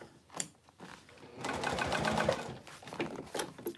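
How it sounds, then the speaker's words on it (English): Sewing machine stitching a 3/8-inch seam on a bowler bag, running in a steady mechanical whir for a couple of seconds after a few soft handling clicks, close and fairly quiet. "So I'm going to sew about 3/8 of an inch on this seam"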